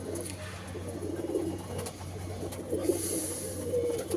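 Domestic pigeons coo in low, throaty, repeated phrases close by, over a steady low background hum.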